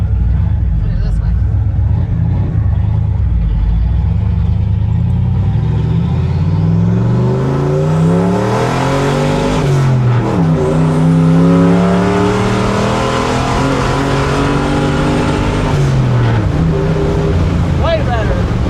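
A turbocharged 1976 Ford F250 truck engine with no exhaust revs hard up close, its loud raw roar rising and falling in pitch through repeated throttle pulls, with a lumpy cammed idle underneath.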